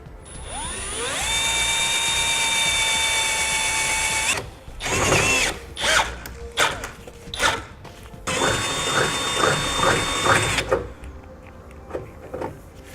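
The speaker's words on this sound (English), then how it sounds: "we're just going to keep drilling until we can go all the way through" A high-pitched drill whines steadily as it spins up and bores through plastic and a metal plate while installing air helper springs, then bursts of grinding and clattering follow, with a second long drilling run and scattered clicks.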